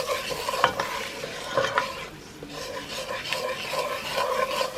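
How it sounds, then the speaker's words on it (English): Butter and curry roux seasoned with spicy Tony's, stirred in a pan for curry crab stew, a dense close sizzle with steady scraping and rubbing strokes of a spoon across the pan bottom, no one speaking. "And you're just gonna stir."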